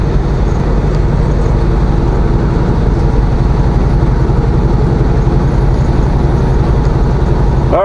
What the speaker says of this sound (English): Those must be empty trailers, because there's only one engine pulling it.